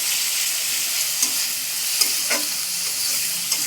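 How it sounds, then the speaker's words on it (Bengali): Fish masala sautés in oil with a close, bright sizzle, a few soft scrapes of stirring breaking through the steady frying hiss. "মশলাটা এভাবে কষিয়ে এলে দেখবেন হালকা হালকা তেল ছাড়ছে"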